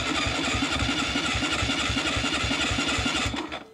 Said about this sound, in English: Okay, here we go. Ignition. Power.